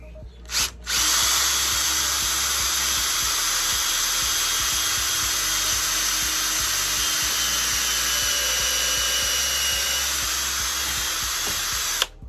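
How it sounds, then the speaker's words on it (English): A power drill with a small bit whines steadily for several seconds as it bores a pilot hole all the way through wood, starting and stopping with brief clicks at each end. "we're actually going to use a small drill bit first just to drill the pilot hole"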